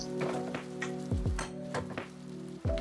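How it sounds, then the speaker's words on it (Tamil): Potato and brinjal sauté in a covered pan for a village-style dried fish curry, a soft steady sizzle with occasional scrapes and stirs, close and quiet. "அப்பப்போ எடுத்து எடுத்து அதை நம்ம வந்து வதக்கி விட்டுக்கிட்டே இருக்கணும்"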